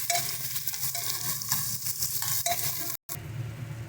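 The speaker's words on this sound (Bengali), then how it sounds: "কুচিয়ে রাখা পেঁয়াজটা দিয়ে দিয়েছি।" Chopped onions fry in a pan for a Sunday mutton curry with potatoes, giving a steady close crackling sizzle with stirring scrapes throughout, cut by a brief silent gap near the end, no voices.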